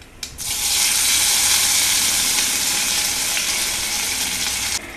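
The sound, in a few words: curry leaves sizzling in hot coconut oil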